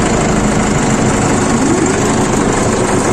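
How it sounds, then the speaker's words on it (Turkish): A 2021 Solis S90 mechanical tractor engine runs steadily close by, a loud continuous drone and rattle that holds an even level throughout with no talking. "Evet arkadaşlar şu anda traktörün sesini duydum."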